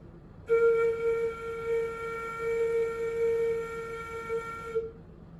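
A flute's head joint gives a long, steady, clear tone when blown across the hole. The note holds for about four seconds over faint room noise, with no talking.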